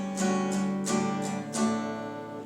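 An acoustic guitar strums a simple beginner chord progression, with four separate strums ringing into one another at a moderate, steady pace, close and clear with no talking.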